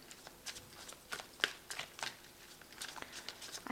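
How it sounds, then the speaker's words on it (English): Tarot deck being shuffled by hand, a series of soft riffling and sliding card bursts at an uneven rhythm, close and fairly quiet, with no speech. "I have shuffled this deck."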